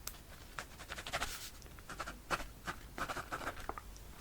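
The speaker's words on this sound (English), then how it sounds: "I'll just write down today's date." A pen scratches across paper in short strokes and pauses, writing out a date at close range in a quiet room, soft and intimate with no talk.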